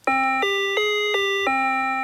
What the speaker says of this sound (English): I'm using this Electron mini piano lead,